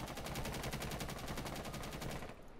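Rapid automatic gunfire in Rainbow Six Siege, a fast, evenly spaced stream of shots fired blind through cover for over two seconds before cutting off abruptly, somewhat muffled and distant.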